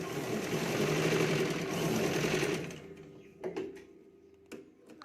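A sewing machine stitches blouse lining, whirring in a fast steady run for nearly three seconds, then stopping, followed by a few mechanical clicks and knocks as the fabric is handled.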